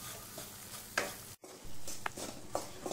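Flour (maida) roasting in butter in a kadhai, with a steady soft sizzle and scraping stirs, broken by a brief near-silent gap midway and a few sharper spoon knocks.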